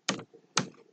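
Two crisp taps on a computer keyboard, evenly spaced about half a second apart, close and clear in a quiet room.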